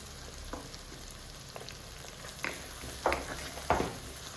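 Onions, garlic cloves and curry leaves sautéing in a pan over a full flame for a vendakkai kara kuzhambu, a quiet steady sizzle broken by a few soft stirring scrapes and pops.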